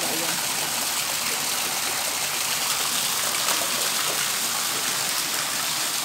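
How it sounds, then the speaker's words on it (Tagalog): Small waterfalls flowing outdoors, a steady, dense rushing and splashing of water that stays loud and unbroken throughout. "Oh, may little waterfalls."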